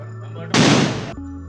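A single sharp firecracker blast bursts loudly for about half a second amid a Ganpati immersion celebration, with a steady tone underneath before and after.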